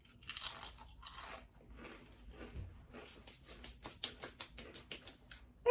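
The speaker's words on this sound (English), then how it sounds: "let's go ahead and have a little bite here." Ranch flavored chips are bitten and crunched close to the microphone, a few louder crunches followed by a rapid run of rhythmic chewing crunches.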